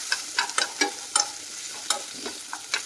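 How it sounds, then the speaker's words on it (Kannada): Onion, garlic, curry leaves and tomato frying and being stirred in a pan for a greens sambar, with repeated sharp scraping stirs over a steady soft sizzle, no talking. "ಇದನ್ನು ಇವಾಗ ಕೆಂಪಗಾಗೋವರೆಗೂ ನೀಟಾಗಿ ಹುರ್ಕೋಬೇಕು."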